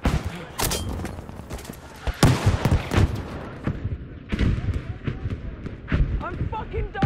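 A grenade blasts in a war video game, a sharp, loud burst amid other booming shots, distant artillery-like thuds and shouting voices in a chaotic battlefield mix.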